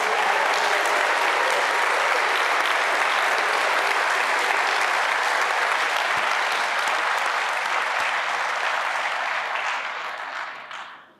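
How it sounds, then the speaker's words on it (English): Audience at a graduation commencement ceremony breaks into sustained, dense applause that holds steady for several seconds before fading out at the end. "Give yourselves a round of applause."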